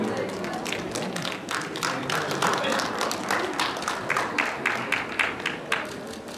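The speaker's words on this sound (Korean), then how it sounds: "큰 박수 부탁드립니다." Audience applause at a family model agency fashion show, a dense steady wash of many hands clapping together, loud and continuous throughout.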